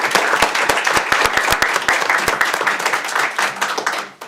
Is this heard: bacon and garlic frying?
no